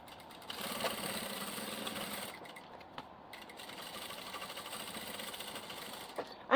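A sewing machine runs a continuous line of stitching close around the edge of a portable diaper bag, a steady mechanical whir with a brief pause midway and a small clack at the end.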